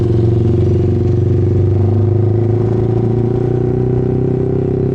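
A motorcycle, freshly cleaned, running on a ride to Hinulugang Taktak, its engine droning loud and steady with a low rumble and some clatter for the whole stretch, no talk.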